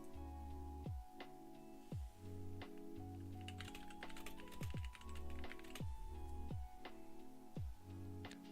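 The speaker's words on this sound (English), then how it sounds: "Yes, it's a mechanical keyboard." Typing on an old, fairly loud mechanical keyboard: rapid clacking keystrokes in uneven bursts, close by, over a constant low electronic hum with no talking.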